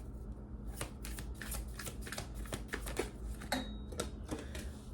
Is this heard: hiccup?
no